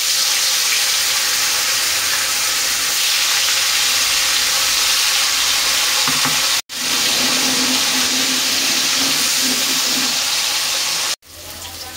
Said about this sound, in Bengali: এখন আমি পনিরটা ভেজে নেব।